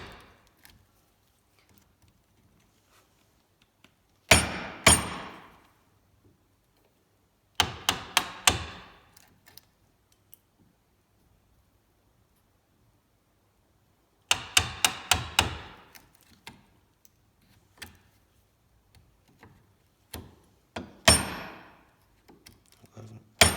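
A mallet strikes a chisel while waste wood is chopped out between dovetail pins: bursts of three to five crisp, close knocks separated by quiet pauses, with no talk.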